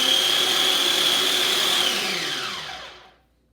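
A food processor whirs steadily at high speed while blending pesto, a loud continuous motor whine that holds for about two seconds before winding down and fading to silence.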